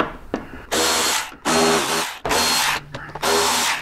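A power tool on a Harley-Davidson Road Glide fairing whirs in four loud, close bursts of about half a second each as screws are backed out, with short quiet gaps between them.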